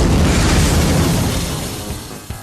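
A cartoon explosion from thrown glasses bursts loudly at once as a dense, broad blast that slowly fades over a couple of seconds, with a small pop near the end.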